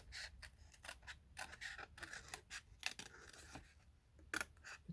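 Scissors snipping apart stamped paper pieces for die alignment, a quiet series of short crisp cuts in irregular rhythm, close and faint.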